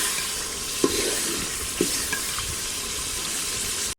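Tomatoes fry in a pan with a steady, soft close-up sizzle, punctuated by a couple of brief stirring clacks, before the sound stops suddenly at the end.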